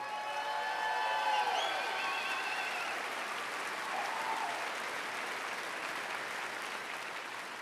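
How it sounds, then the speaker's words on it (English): A concert audience applauding for a keyboard player, dense steady clapping with a few cheers and whistles at the start, fading slightly toward the end. "Give a really nice warm round of applause to our keyboard player"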